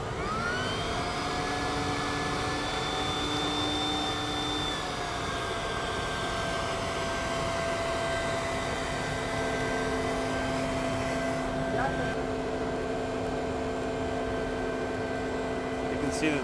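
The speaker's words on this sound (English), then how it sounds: "he's going to turn on the vacuum and suck all the air out" A vacuum pump draws air out of a bag over a composite car-body mold, a loud, steady droning whine with sustained tonal hum that shifts pitch slightly partway through, constant from start to end.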